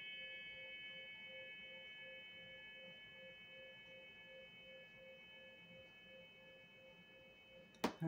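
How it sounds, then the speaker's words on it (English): A faint, steady sine-wave tone holds a few pure pitches continuously over low background hiss, ending with a short burst of noise. "Let's bring in the miracle tone again."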